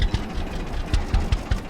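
Tractor engine idling steadily in the Farmer's Dynasty farming game, a low rumbling chug with faint periodic knocks, close and alone with no talk.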